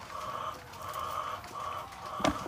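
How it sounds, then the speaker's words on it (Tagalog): Native chickens feeding on a rural farm make a steady, faint clucking chatter throughout, with a sharp click near the end. "pumunta na yung mga alaga o manok dito"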